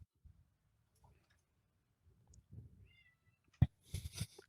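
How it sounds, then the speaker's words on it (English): Quiet room with faint soft shuffling, then a sharp click like a door latch followed by a couple of short cat meows. "the door's opening and cats are screaming"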